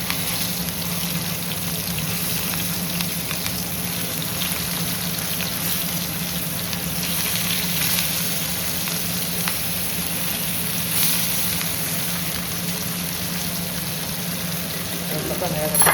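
Fish frying in a pan with oil, a steady close sizzle and crackle that keeps going without a break the whole time.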